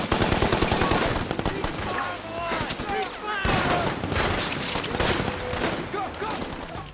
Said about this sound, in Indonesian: tembakan berbunyi keras.